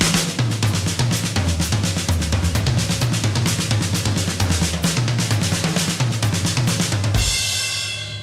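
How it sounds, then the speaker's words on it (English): A drummer plays a fast, dense solo, moving accented strokes around the snare and toms over a continuous driving pulse; loud and close, ending with a ringing cymbal wash. "let's just take the accents and place them around the toms to create other rhythms."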